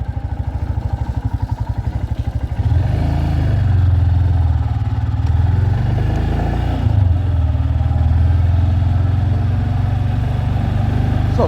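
Royal Enfield Himalayan motorcycle being ridden in Latvia on a clear autumn day, its engine a steady low drone with a pulsing beat for the first seconds, then a louder continuous rumble and road noise, no talking.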